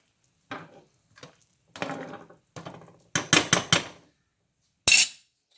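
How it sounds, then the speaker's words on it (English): Spoon scraping and clinking against a pot of rice porridge (lugaw) being stirred, a series of short separate knocks and scrapes, close and clear, ending in a sharper metallic clink. "and I'm going to stir it"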